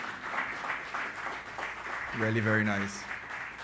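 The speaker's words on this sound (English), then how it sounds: "I think she deserves another round of applause" An audience applauds at a college graduation ceremony, a soft wash of clapping that runs throughout while a voice speaks over it.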